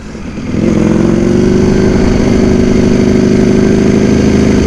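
A Ducati Panigale V4 motorcycle engine rises quickly from a low note and then holds a loud, steady, throbbing drone under acceleration, heard close up without any talking.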